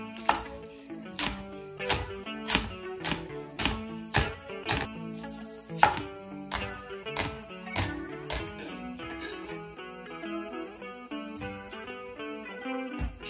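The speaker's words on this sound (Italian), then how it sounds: "Tagliamo il cipollotto." Spring onion chopped with a knife on a board for a Greek salad, a regular series of crisp chops heard close over soft background music.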